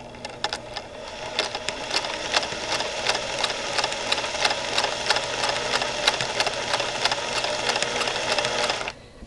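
A Singer sewing machine running a decorative pattern stitch, with a steady rapid clatter of needle strokes that stays loud and close for about nine seconds before stopping abruptly, no talking.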